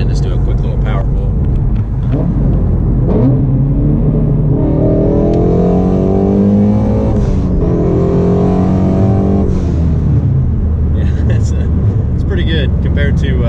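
A tuned Ford Mustang accelerates hard, its engine note climbing steadily through a loud power pull before easing off, with brief talk at the start.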